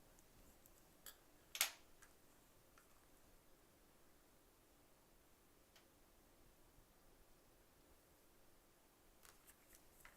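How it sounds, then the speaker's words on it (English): A single quiet snip of scissors cutting embroidery thread on an owl stitching project, close and faint, followed by soft clicks and small handling noises against a near-silent background. "Let's just snip this one right here."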